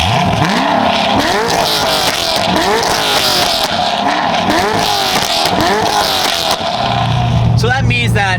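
A Corvette engine revs up repeatedly in rising bursts through a modified stock exhaust, loud and close, with exhaust roar and a voice talking over it.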